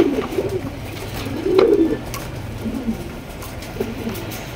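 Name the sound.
pigeons cooing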